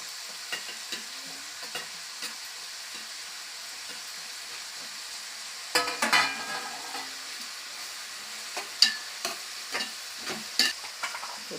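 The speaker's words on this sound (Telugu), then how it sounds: "ఉల్లిపాయలు వేసుకున్నా కదా, వేగనిగా చూద్దామండి" Onions and green chilies fry in a pan for a spicy Andhra fish curry, giving a soft, steady sizzle. Scattered scrapes and clinks from stirring rise above it now and then.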